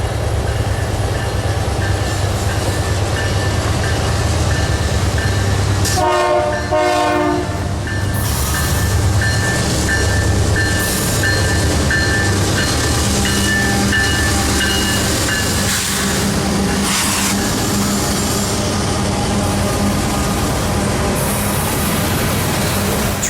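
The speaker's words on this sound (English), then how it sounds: "Train 280 makes noise as they cross the Mississippi, with CP AC44CW9779 at the lead, and CSX ET44AH 3357 trailing behind." Freight train crossing a bridge over the Mississippi with a CP AC44CW locomotive leading and a CSX ET44AH trailing; a steady loud engine rumble runs throughout, with a prominent horn blast midway and faint wheel clatter, no talking.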